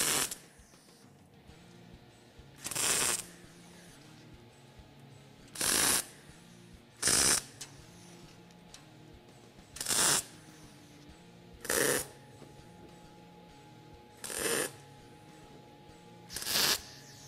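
Eastwood MIG welder stitch welding sheet metal for a door or wheel arch repair, a series of overlapping spot welds: eight short crackling bursts about a second long each, spaced a couple of seconds apart, close and fairly loud.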